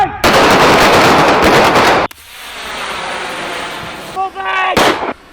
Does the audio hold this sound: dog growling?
no